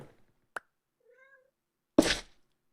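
A cat gives a single short meow in a quiet room, preceded by a sharp click and followed by a loud noisy burst.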